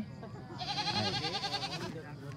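Goats bleat at a busy livestock market, a wavering high cry rising and holding for over a second amid crowd chatter and people talking nearby.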